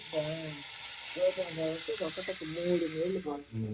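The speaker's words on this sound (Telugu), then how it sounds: "ముందుగా దాంతోపాటు రవ్వ వేయించి పెట్టుకోవాలనా?" Wheat semolina (godhuma rava) roasting in a pan gives a steady, close, soft sizzling hiss throughout, with a humming, voice-like tone running underneath.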